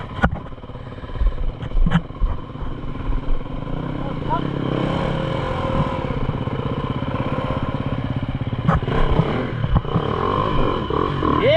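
A Beta 300 enduro motorcycle runs on a group trail ride near Dungog's Frying Pan Creek, its engine droning steadily and close by with a few revving surges, while people talk over it.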